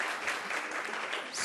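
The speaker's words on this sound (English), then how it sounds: "Let's have the applause first." Audience applause following a business talk by a company CEO, a dense, steady clapping from a room of listeners that holds for the whole stretch and swells slightly near the end.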